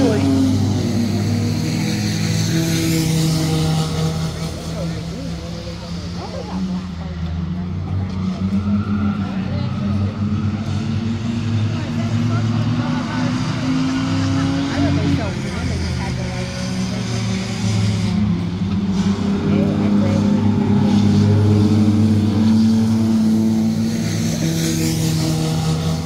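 Race cars in a chain race at Midvale Speedway on a night of destruction event, engines droning steadily through the laps with a constant roar under ongoing announcer commentary.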